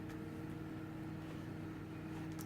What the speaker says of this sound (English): The fan noise you hear is the exhaust fan in the other room.